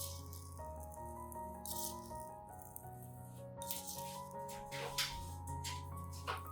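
Dry rice grains spooned out by the tablespoon, rattling with a series of light, close clicks and a sustained grainy hiss, heard over steady background music with no talk.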